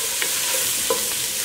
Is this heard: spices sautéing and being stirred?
yes